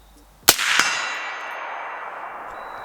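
A suppressed bolt-action rifle with a longer barrel fires a single shot: a sharp, close crack followed by a bright ringing decay that fades over about two seconds, with a smaller knock just after.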